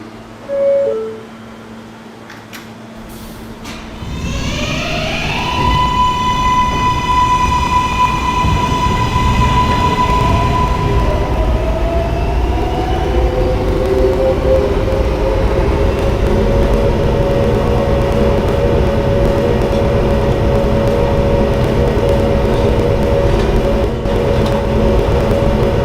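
A K subway train rides between stations, opening with a quiet car and a brief thump, then pulling away with a rising electric motor whine that climbs in pitch and settles into a loud, steady rumble of wheels and track.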